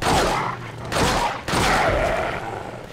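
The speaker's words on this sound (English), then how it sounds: "Here I try out the pistol." Pistol fire in Resident Evil 4 cracks out in a few loud, close shots, each followed by a booming, ringing decay, spaced roughly a second apart.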